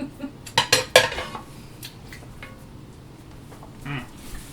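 A spoon clinks and scrapes against a pot while sauce is stirred for chilaquiles, a quick cluster of bright metallic knocks early on, then softer scattered taps and a faint rustle, close by.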